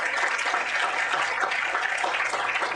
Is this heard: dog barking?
no